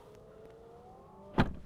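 Automatic soft-close door on a BMW i7 electric saloon pulling shut, a faint motor whine building before a single firm thud near the end, close by with no talk.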